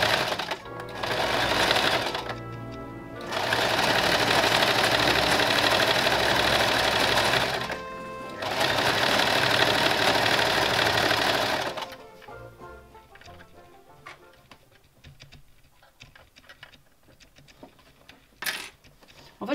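A sewing machine stitches fabric for a dress in loud, rapid whirring bursts with brief pauses, then stops, leaving quiet clicks and small handling sounds.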